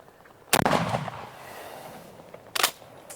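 A 10 gauge shotgun is fired at a turkey outdoors on a rainy day, giving one loud close blast that rolls away into a long fading echo, then a second sharp report near the end.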